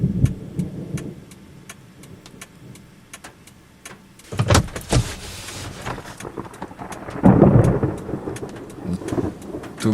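Thunder from a cloud-to-ground lightning strike inside a heavy rain core during a Florida summer storm: a sharp crack and rolling rumble midway, then a deep swelling boom near the end, over steady rain and regular ticking.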